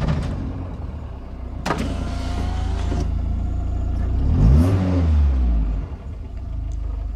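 A sports car priced around €20,000 starts up and settles into a low, muffled idle. A brief starter burst comes early, then a deep rumble that swells near the middle before easing off. The engine sounds close, with no talking.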